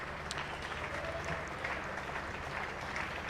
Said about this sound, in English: let's hear the applause for Ollie Hannon Dolby as he comes off the park